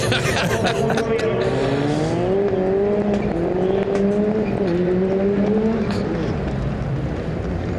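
Engine of a rallycross car finishing a qualifying session at the 2019 World Rallycross in Sweden, heard as a sustained, rising and falling drone under continuous commentary.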